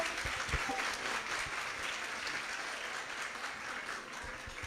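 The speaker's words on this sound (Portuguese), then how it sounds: "Poderiam bater uma salva de palmas." An audience at an association's event gives a round of applause, a loud, continuous crackle of many hands clapping from start to finish.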